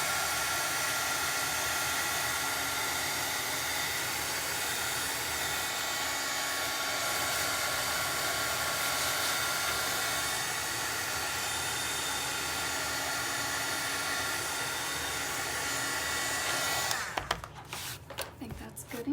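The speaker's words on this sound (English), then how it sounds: "Then let me run the dryer on here real quick" A dryer, used on a crafting project before stenciling, blows as a loud, steady broadband rush for most of the span, close to the microphone, then cuts off and leaves brief handling noises.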